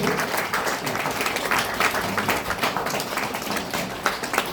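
An audience at a Basti clan council gathering in Devghat, Chitwan, applauds to honour elders, a continuous patter of many hands clapping at steady volume for several seconds.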